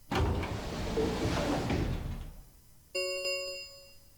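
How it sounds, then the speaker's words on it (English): Heavy warehouse doors in Zero Escape: Virtue's Last Reward rumble loudly as they slide shut, then the noise fades and a bright electronic chime rings out alone. "the warehouse was filled with the rumbling sound of the doors sliding shut"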